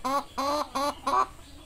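Chickens on a poultry farm in Bangladesh cluck four times in quick succession, loud and close, with no other sounds around them.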